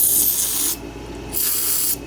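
Aerosol lubricant is sprayed onto parts of a 15 HP Powerfist engine during a teardown, heard as two close, steady hissing bursts with a short pause between them and no talking.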